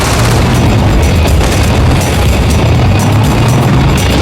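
A tank blown up in the game Battlefield 2142: a loud, dense roar of explosive booms and rumbling fire fills the whole stretch without pause, heavy low thuds over sustained blast noise.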